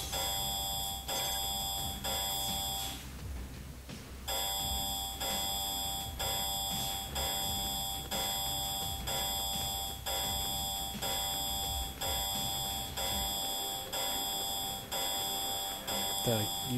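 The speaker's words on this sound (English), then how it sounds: "This shit is just beeping loud as fuck in my ear." Loud repeated electronic alarm beeps pulse steadily and insistently in the Wii U game Lost Reavers while the player is stuck in a room, a continuous beeping pattern that dominates throughout, with a player's voice talking over it.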